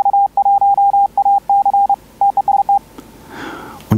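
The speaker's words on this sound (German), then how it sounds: "ich habe jetzt hier eine Station im Morse-Decoder, und wir gehen hier einmal rein in den CW-Regenerator, und ich schalte den jetzt mal ein." Clean Morse code CW tones from a radio station, passed through a CW regenerator filter, beep in a steady keyed rhythm of short and long dits and dahs with no background hiss, then stop and fade into a faint sweep.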